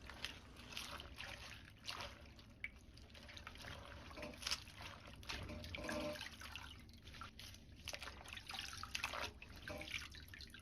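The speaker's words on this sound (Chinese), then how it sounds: "這兩樣一定要多清洗幾遍，至水清亮沒有泥沙後再撈出控乾水分" Lotus root and vegetables are rinsed by hand in water, a faint, continuous sloshing with soft drips and splashes.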